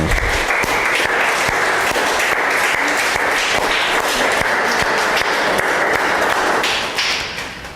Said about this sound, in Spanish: Ahí dale un fuerte aplauso al Señor.